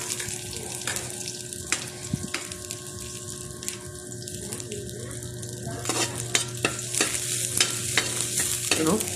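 Garlic and then onion sautéing in a pan for Filipino ginataang talong, giving a steady close sizzle with a spatula scraping and stirring at intervals.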